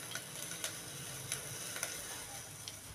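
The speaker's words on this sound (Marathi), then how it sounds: "2 मिनटं आपण फ्राय केलेली आहे मिरची." Green chilies frying in a pan give a soft, steady sizzle with faint crackles and occasional small stirring ticks, quiet and continuous with no talking.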